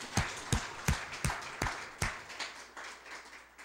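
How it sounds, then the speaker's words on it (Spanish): A congregation in a church claps in a loose, even rhythm that slowly fades, the sharp claps faint and echoing with no voices heard. "Dele ese aplauso al Señor"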